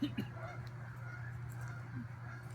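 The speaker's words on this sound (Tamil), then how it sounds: "கூஸோட சவுண்டு கேட்குது பாரு" Geese honk a few times in short bursts at moderate distance outdoors, over a steady low hum, with no speech during it.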